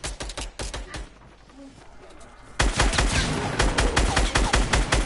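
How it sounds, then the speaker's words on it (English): Rapid hand cannon gunfire in a multiplayer shooter video game, dense bursts of sharp shots, a quieter stretch in the middle, then a louder sustained barrage. "I hit him with a hand cannon."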